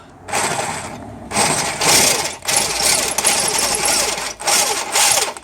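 Loud, harsh grinding and chattering of a drill bit cutting into a broken steel bolt, in several bursts separated by brief pauses.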